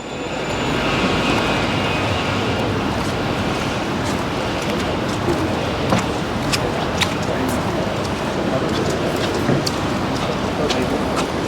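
Steady rain falls on a Sydney city street on a Friday, a dense, loud hiss of drops that runs unbroken throughout.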